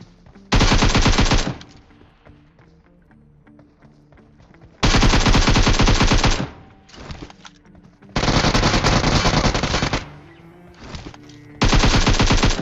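Automatic gunfire in PUBG Mobile rips out in four loud sustained bursts separated by short quiet gaps, with a few brief shorter volleys between them and no talking.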